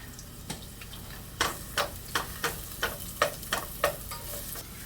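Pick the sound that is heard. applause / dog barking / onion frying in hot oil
onion frying in hot oil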